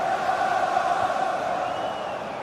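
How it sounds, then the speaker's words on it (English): Football stadium crowd in a soccer video game, a steady distant roar of massed voices with a faint rising chant, continuous and even throughout. "Well, just listen to this crowd."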